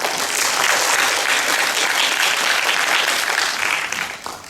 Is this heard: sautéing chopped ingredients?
no